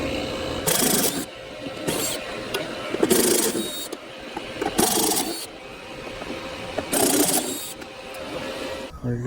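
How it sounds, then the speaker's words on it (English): Bolts being removed from an AC compressor, with several intermittent bursts of ratcheting or tool rasping over a low steady background hum, moderately close. "so we take the bolts out"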